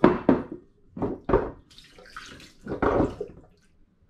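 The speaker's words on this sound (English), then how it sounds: "I'm just going to rinse the bottles off now to get any sticky residue off." Running water rinsing beer bottles gives short splashing gushes in several separate bursts, close by, with gurgling and quieter trickles between them.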